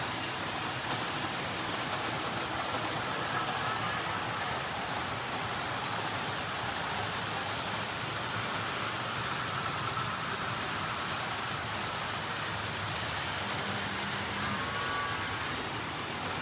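A toy train in a toy museum rumbles steadily along an overhead track with a continuous, soft clattering roll that stays at an even level throughout.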